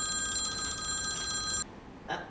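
A telephone rings with a steady, bright electronic tone for about a second and a half, then cuts off, leaving near silence before a short faint noise.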